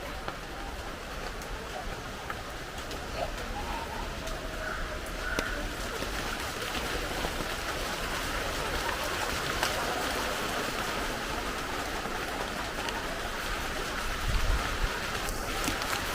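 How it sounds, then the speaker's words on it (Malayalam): Heavy rain pours down steadily, a dense, even hiss that holds at the same level from start to finish, with faint background sounds underneath. "നല്ലൊരു മഴ വരുന്നുണ്ട്"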